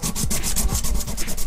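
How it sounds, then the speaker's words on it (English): A 3D-printed ooze canister prop is dry-sanded by hand with 400 grit sandpaper, giving loud, close, quick back-and-forth rasping strokes in a steady rhythm with no voices. "I'm going to use 400 grit sandpaper we have right here to go ahead and start sanding this down for smooth"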